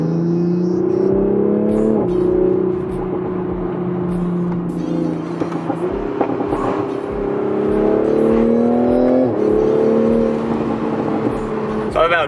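A McLaren F1 driven on public roads roars loudly and up close, its engine note climbing through several gear changes in repeated rising pulls.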